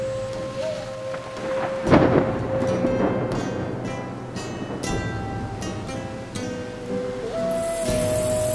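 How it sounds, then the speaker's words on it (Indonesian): A hailstorm sends a dense, continuous patter and roar across the whole stretch, with a sharp crack near the start and a steady wash of noise beneath a thin whistling tone. "Hujan es."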